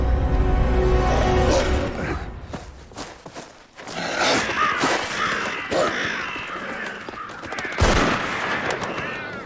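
Crows caw repeatedly in the Iron Harvest video game, the calls layered over scattered gunfire, footsteps and dense in-game battle sound, loud and continuous throughout.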